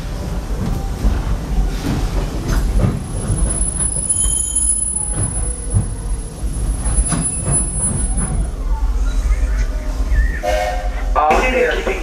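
The Walt Disney World Railroad train rumbles and clatters along with squealing wheels and rattling cars, and a faint high whistle-like tone sounds near the end.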